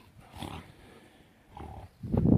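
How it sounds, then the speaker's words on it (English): Two dogs growl and scuffle playfully in low, rough bursts near a greenhouse, fairly faint and at a distance, the loudest flurry at the end. "As you can see, I've got 2 dogs here playing one another."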